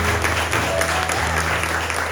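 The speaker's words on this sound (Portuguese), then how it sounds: "Você pode dar uma salva de palmas a esse Deus." A church congregation claps in praise during a worship service, a dense, continuous, even burst of applause filling the hall, with a low steady hum underneath.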